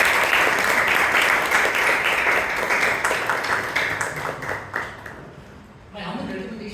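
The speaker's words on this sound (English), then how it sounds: "Big round of applause" Applause for a speaker at a Bangalore Toastmasters club meeting: dense clapping that gradually thins and fades, ending in a few scattered claps before a voice begins speaking near the end.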